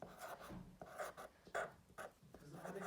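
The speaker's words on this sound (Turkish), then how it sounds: "Yazıyorum, yazıyorum, yazıyorum." Rhythmic strokes of writing on a board during a sixth-grade math lesson, a series of short scratchy bursts, close and fairly quiet, with no talking.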